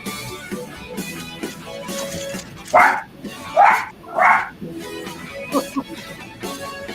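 Three sharp dog barks from a sample in a song, close and loud in a quick run over the continuing music.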